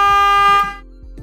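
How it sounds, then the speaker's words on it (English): The electric horn of a Taylor Dunn Bigfoot XL utility vehicle sounds one loud, bright, buzzy blast that stops abruptly after about half a second, followed by quieter low background noise. "and an electric horn."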